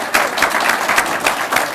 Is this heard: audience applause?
yes